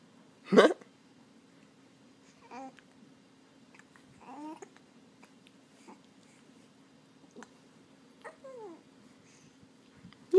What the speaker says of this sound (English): Got a mean case of the hiccups.